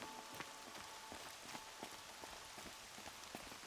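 Steady rain falls in the video game Horizon Zero Dawn, a dense even patter of drops on surfaces with faint scattered taps throughout, heard alone with no speech.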